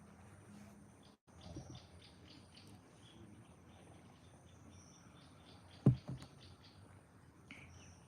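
Faint birdsong and chirping drift through a quiet forest at Forest Hill, with insect-like trills underneath and a brief louder knock or rustle near the middle; no one speaks.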